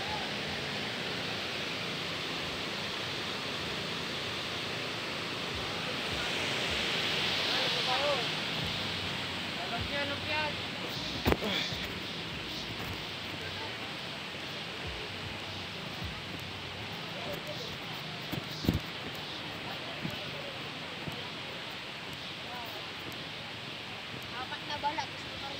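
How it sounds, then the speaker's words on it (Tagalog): Waterfall at Wawa Dam, heard as a steady broad rushing roar of falling water that lasts throughout at moderate loudness, with faint voices now and then over it. "Ganda lang dito yung falls."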